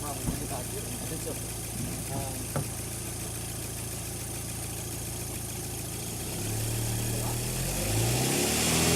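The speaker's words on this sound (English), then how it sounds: "I'm going to rev the car." A 2.0T FSI engine in a VW B6 rises from a steady idle into a rev near the end, a close, continuous mechanical drone climbing in pitch.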